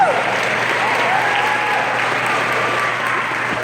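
Steady, sustained audience applause fills the room after a gospel song performed at a sorority student achievement program, dense clapping continuing evenly throughout without a break.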